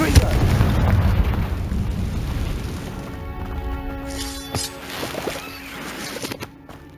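Fire-spell explosion in the video game Hogwarts Legacy, a loud booming blast with crackling rumble that decays over several seconds into ringing tonal effects, with game sounds continuing underneath.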